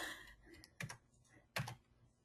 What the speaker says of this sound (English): what I'm doing is I'm typing their names.